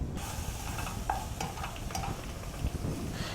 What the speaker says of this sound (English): we'll just take this and stir these apples around